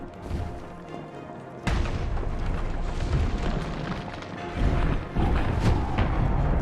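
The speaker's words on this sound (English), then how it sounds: "Okay, anti-rail cannon." Heavy anti-rail cannon fire in Resident Evil 3 Remake, a sudden loud boom about a second and a half in, followed by sustained rumbling blasts and a second surge near the end, dense and close.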